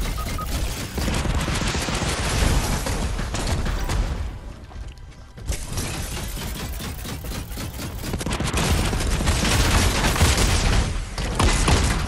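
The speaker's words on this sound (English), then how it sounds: "He's just getting shot, bro." Dense, loud, nearly continuous rattling gunfire and crashing impacts in a video game, briefly dipping midway before resuming at full intensity.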